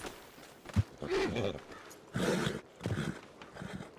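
A nervous horse in a video game snorts and stirs close by, with a few hoof clops and short bursts of breathy noise coming in uneven clusters rather than a steady rhythm.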